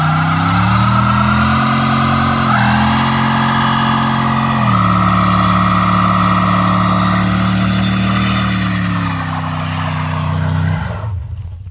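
An old 6.5 turbo diesel engine runs steadily up close, a loud, deep throbbing idle that rises slightly in pitch twice before the sound cuts out abruptly near the end.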